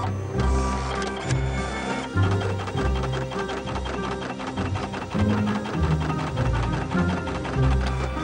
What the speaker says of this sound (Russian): И принтер сразу заработал